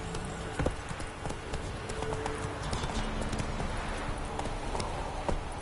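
Roach, a horse in the Witcher game, galloping: rapid, continuous hoofbeats close by, driving along under a busy game soundscape.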